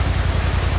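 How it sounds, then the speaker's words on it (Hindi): The Mandakini waterfall at Nathula Pass in Sikkim gives a close, loud and steady broadband roar of falling water with no pauses or voices. "Famous waterfall Mandakini."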